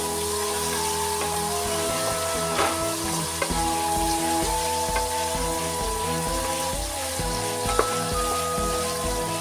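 Vegetables, including bell pepper, fry in a pan for vegetable pulao, giving a steady close-up sizzle with faint crackles and occasional clicks of stirring throughout.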